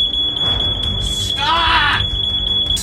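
A smoke detector, set off by a toaster, beeps in a steady high-pitched rhythm, loud and close, while someone shouts over it.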